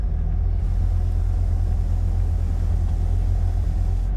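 A Monkeemobile replica car with a large supercharger blower rumbles as it pulls away, a loud, steady, deep engine drone close by with no talking.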